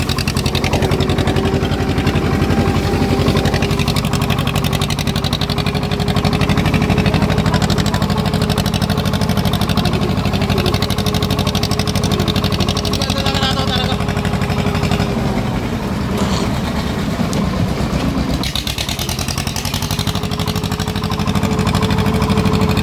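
Swaraj tractor engine running steadily on a rough rural track, a loud continuous mid-pitched drone with a faint whine, holding nearly constant throughout with a brief dip near the end.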